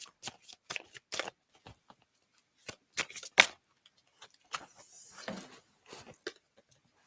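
A deck of oracle cards being shuffled by hand, close and crisp, in quick riffling bursts and soft card slaps separated by short silent gaps, with no talking.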